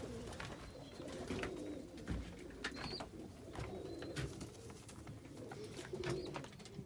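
Fancy pigeons, including Mookees, cooing in a loft, soft repeated coos and faint chirps layered over steady low murmuring from the flock, close and moderately loud throughout.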